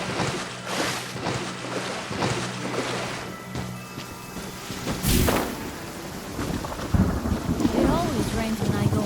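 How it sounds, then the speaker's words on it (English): Rain and a thunderstorm in the video game Genshin Impact, with steady broadband rainfall, repeated thunder cracks and one sharp strike midway, plus scattered game sounds. "It always rains when I go on an adventure."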